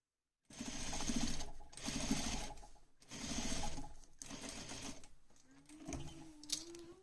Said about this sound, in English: now we are ready to actually close the waistline with one stitch and another one.